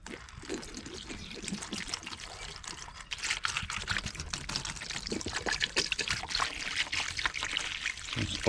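Vinegar being poured into an old plastic pan, a continuous trickling, splashing pour that grows busier and a little louder partway through, heard close up with no talking.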